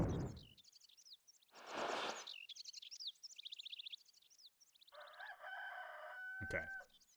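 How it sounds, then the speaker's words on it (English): A rooster crows in the Dark Cloud video game near the final dungeon, several drawn-out crows mixed with chirpy, bird-like game sounds and short bursts of noise. "Hope you like hearing that rooster."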